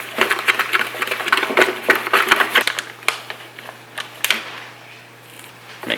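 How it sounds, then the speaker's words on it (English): A spatula scrapes and stirs E Marco reef cement in a container for a reef aquascape build, giving uneven gritty scraping bursts that fade toward the end. "Mix it with the spatula."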